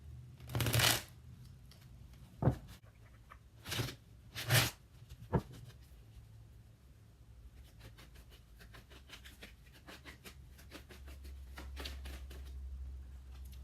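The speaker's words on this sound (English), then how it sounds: "So right now I'm just going to shuffle the cards." Tarot-style reading cards shuffled in a few distinct riffling bursts, close and crisp, with scattered taps and a faint low hum between them; no talking.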